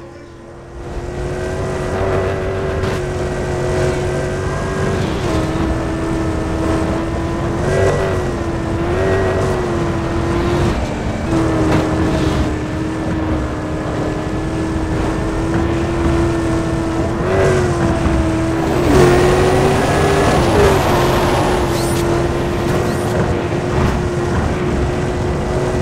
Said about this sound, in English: I'm going to stop speaking now so you can actually listen to it for a bit.